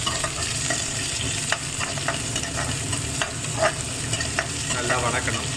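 Onion, two green chilies and curry leaves frying steadily in a pan for beetroot poriyal, a continuous close sizzle broken by repeated scraping stirs of a spoon, with no voices.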